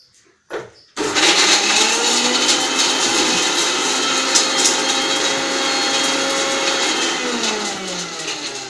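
A mixer grinder starts up after a brief knock and runs steadily, grinding tamarind and green coriander into a thick paste for sammangi. A loud, continuous whirring motor drone sounds close by without a break.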